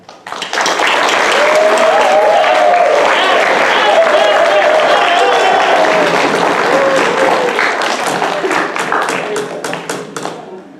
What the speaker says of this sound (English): how about if we give a one giant round of applause, yell a woo-hoo as loud as you can